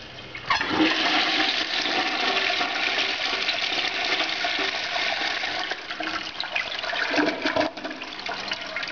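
A toilet in an 1800s house bathroom flushes in a loud, close, sustained rush of water that churns for several seconds, with a few gurgling surges near the end.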